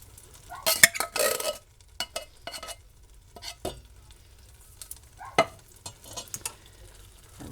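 Zesty canned tomatoes being added and stirred into a big pot of hamburger chili: quiet, sparse scrapes and clinks of a spoon, with a brief louder splashy clatter near the start and another midway.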